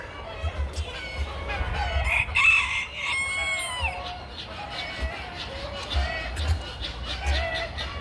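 A rooster crows nearby in a farmyard where a small speckled bantam game hen has gone missing, and other chickens cluck and call continuously around it.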